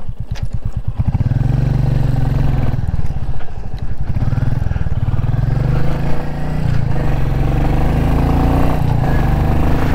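A Royal Enfield Meteor 350 motorcycle engine runs steadily and loud and close throughout, with a throaty exhaust rumble and slight rises in revs as the bike gets under way.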